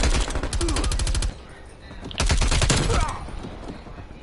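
Automatic weapon fire in the shooter Call of Duty: two loud rapid bursts of shots, the first about a second long, then a brief lull with distant rumble before the second longer burst that trails off into quieter background noise.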